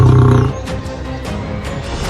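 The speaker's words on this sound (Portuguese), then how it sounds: "Diante do macho alfa, ele soltou um rugido poderoso e um desafio inegável" A young lion roars at the alpha male in the wild: a loud, deep, guttural roar at close range that trails into rough, rumbling growls.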